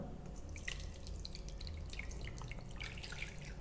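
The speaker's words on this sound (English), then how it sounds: "Let's put water in the pan." Water poured into a cooking pan, a continuous close splashing and dripping trickle at low volume with no talk.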